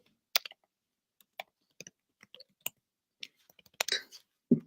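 Quick keystrokes on a computer keyboard, a scattered string of separate clicks followed by a denser clatter of several keys together, close and fairly quiet with no talk.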